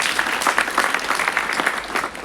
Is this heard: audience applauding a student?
yes